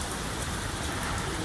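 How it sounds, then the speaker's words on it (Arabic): Steady rain falls without pause, a dense even patter on surfaces with no voices heard. "اللهم اجعلها امطار خير وبركه."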